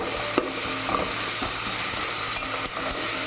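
Ginger garlic paste being stirred in a hot pan for cauliflower biryani, a continuous close sizzle with occasional sharp spoon knocks and scrapes.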